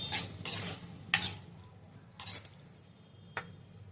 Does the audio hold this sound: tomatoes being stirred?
yes